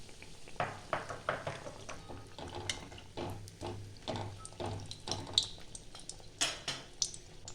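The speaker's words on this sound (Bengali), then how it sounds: "এবার আমি ভাজবো।" Bengali-style aloo chop, battered potato patties, going into hot oil and frying: a steady crackle and hiss with repeated brief spatters and clinks, close by and fairly quiet, no talking.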